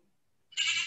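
A single short goat bleat rises abruptly out of near silence, a brief, clear, close cry lasting under half a second.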